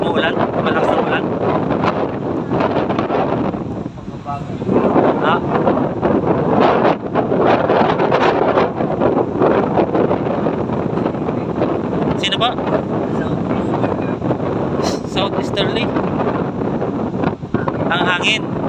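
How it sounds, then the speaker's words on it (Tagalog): Strong wind from a storm buffets the microphone under a bridge, with a continuous loud roar that gusts up and down. Waves and people talking sound faintly beneath it. "Ang hangin."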